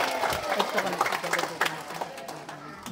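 Children clap together in a rural barrio gathering with a Jollibee mascot, a busy, uneven patter of small hands lasting a few seconds, mixed with crowd chatter and a voice.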